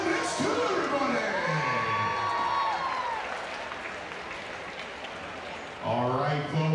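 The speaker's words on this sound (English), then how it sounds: "How about a round of applause for the mastermind" Crowd applause and cheering at the 2018 Gingerbuild event, a loud burst of clapping with high whoops and shouts that fades gradually, followed by a voice speaking near the end.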